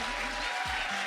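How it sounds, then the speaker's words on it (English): Applause from a live audience at the close of a conversation event, a steady clatter of clapping heard nearby and fairly loud for about a second, with a faint low voice underneath. "Should we have a big round of applause for everyone?"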